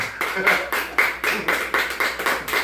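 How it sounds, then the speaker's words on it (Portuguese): A church congregation clapping in praise of the Lord, a steady rhythmic beat of about ten claps in quick succession, near and moderately loud, with no speech. "As palmas do Senhor."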